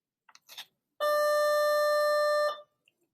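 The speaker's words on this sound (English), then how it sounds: "And that was the bell" A school bell rings once in a classroom, a single steady electronic tone held for about a second and a half. It is loud and clear, heard alone after a few faint brief sounds.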